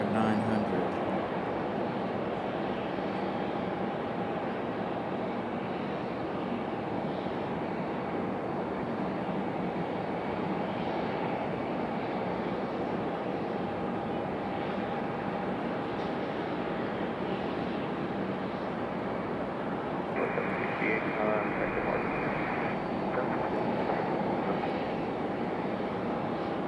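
A CRJ900 regional airliner at Raleigh Durham airport gives a steady, broad engine roar for the whole stretch, with a voice talking intermittently over it.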